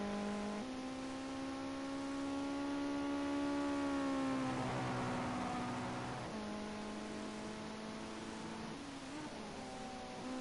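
A Ginetta GT5 race car running on track, its engine note holding a steady harmonic drone that swells under acceleration, dips briefly around a corner, then pulls back up, loud and close throughout with no talk.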